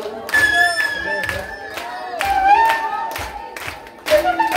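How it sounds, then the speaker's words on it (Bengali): A crowd claps in rhythm along with a Bengali Hari-bol kirtan chant, steady hand claps under sustained group singing voices, fairly loud and continuous. "আপনারা শুধু করতালি দিবেন"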